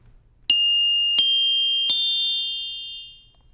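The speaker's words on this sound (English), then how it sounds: "Since the size of the bells is much smaller than the other keyboard instruments, strike both natural notes and accidental notes in the center of the bar." Orchestra bells struck with mallets at the center of the bars give three clear, bright strikes about 0.7 seconds apart. Each tone rings on and overlaps the next, then fades out alone.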